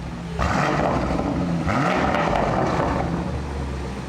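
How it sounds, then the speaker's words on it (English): A 2023 Alpina XB7 engine revs hard twice in a row with exhaust valves open, a deep roaring exhaust rising and falling, loud and close with no talking. "We're ready to open up some valves. I think Jake is itching to give us some revs"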